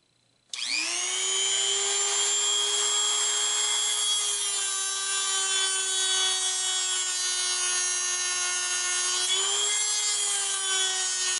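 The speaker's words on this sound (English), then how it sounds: "remove as much of this excess wood with the Dremel tool as I can before putting it on the grinder" A Dremel rotary tool grinds away excess pecan wood from a knife scale reinforced with brass pins, giving a loud, steady high-pitched motor whine with a slight dip near the end, running alone without talk.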